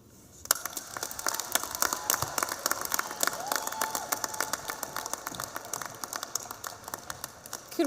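A crowd at a high school graduation ceremony claps in a steady, dense patter that runs from start to finish, with faint voices underneath.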